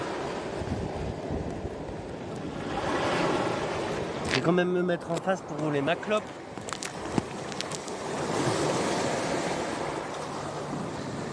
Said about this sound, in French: J'ai les vagues qui montent, tu vois, je vais prendre l'eau.